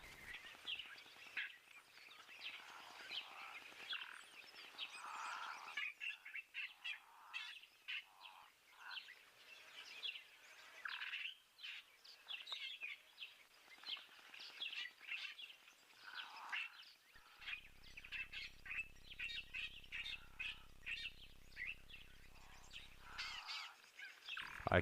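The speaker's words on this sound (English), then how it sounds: "Couple of starlings also calling in the background." A couple of starlings call in the background of a quiet outdoor nature scene, with faint, scattered chirps and whistles repeating over soft ambient noise.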